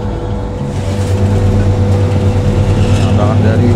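The Mercedes engine of a Po Haryanto Diamond 081 bus hums with a strong, steady low idle, its tone rising slightly as revs build; a voice talks over it.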